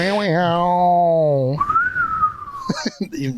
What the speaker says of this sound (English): You got to get your whistle skills.